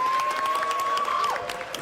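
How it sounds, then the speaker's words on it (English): An audience claps for a tour guide, a brief burst of scattered applause with a thin steady tone running underneath. "Everyone applaud Shannon for her great tour guide work."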